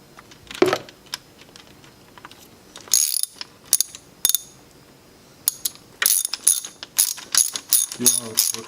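Ratchet clicking as a screw is driven into a BMW E90-series oil filter housing, bursts of rapid metallic pawl clicks in short strokes, close and crisp, with pauses between.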